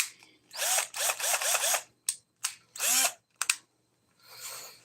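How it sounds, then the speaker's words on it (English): Power drill hollowing out a prop, revving in short repeated bursts, with several quick pulses followed by longer whirring runs and abrupt stops, close and fairly loud with no talk. "I think just using the drill and slowly making it bigger is probably the easiest way at the current moment"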